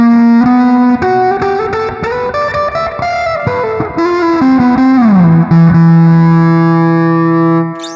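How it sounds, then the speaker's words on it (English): Lead fuzz guitar through an emulated amp in Amplitube 5, with loud sustained notes and bends in a melodic phrase that ends on a long held, slightly sliding note, with no voice. "this one like instantly feels more like a lead kind of fuzz because it's just like so warm and creamy"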